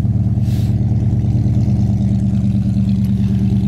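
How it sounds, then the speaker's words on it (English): A 1964 Ford Galaxie engine idles steadily through a new dual exhaust with a deep, throaty rumble, loud and close, with no talking. "it's got new dual exhaust on it. Dual exhaust sounds good."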